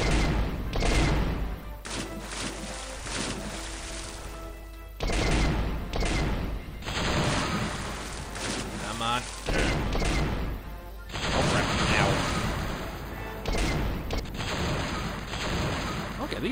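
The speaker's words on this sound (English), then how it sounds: "Now that is a cannon." Rapid, heavy booming blasts of cannon fire in the PC game The Curse of Monkey Island, loud and continuous with metallic mechanical clanks between volleys.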